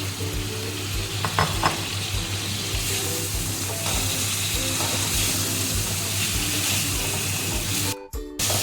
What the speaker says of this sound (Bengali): এই চিংড়ি মাছটা আমি আগেই ভেজে নিয়েছি সেটা আমি দেখাইনি অবশ্য এবারে মাছটা ছেড়ে দিলাম